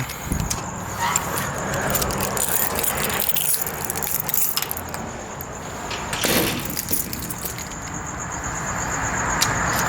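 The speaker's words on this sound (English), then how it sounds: "The keys that Bailey Bernard knocked out of my hands" Keys jangle and rattle in short bursts while someone works a gate lock outdoors, against a steady wash of nearby traffic.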